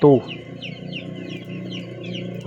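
A box of newly arrived broiler chicks gives repeated high, thin peeping chirps over a low, murmuring background, with a brief louder thump at the start.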